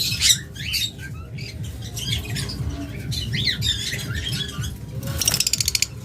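A pair of yellow collar lovebirds squawk and chatter close by in a busy, continuous stream of harsh calls, ending in a quick burst of rapid, shrill notes.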